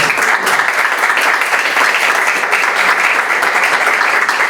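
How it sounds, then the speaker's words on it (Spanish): An audience applauds at a book presentation, with dense, sustained clapping that stays loud and even throughout and no talk over it. "Aplaudan."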